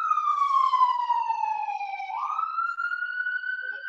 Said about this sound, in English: I'll let that ambulance go by first